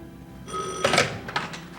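A mobile phone rings in a Taiwanese drama scene, with a short electronic ringtone that starts partway through and repeats in a few bright bursts, fairly close. No one speaks over it.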